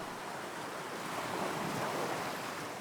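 Small waves lap and wash along a shore in a continuous soft surf hiss, with a gentle swell in the middle and some wind, no voices.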